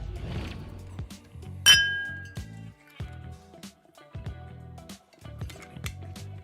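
Glasses clinking together in a toast, a bright chink ringing out once near the start amid scattered small clinks and taps of glassware, close and moderately loud with no talk.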